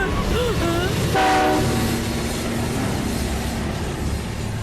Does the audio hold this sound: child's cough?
no